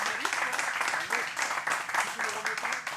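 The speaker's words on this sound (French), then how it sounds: "on peut l'applaudir très très fort" Applause from the audience at a French local investment awards ceremony for mayors in Eure-et-Loir. Steady, dense clapping continues throughout with faint voices beneath it.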